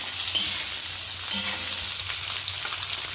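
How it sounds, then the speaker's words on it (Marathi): Soya chilli ingredients with onion stir-fried in a pan over a high flame give a steady, close sizzling hiss throughout, with faint scraping of the stirring spoon and no talk. "हे सगळं मोठ्या गॅसवर छान परतून घ्या"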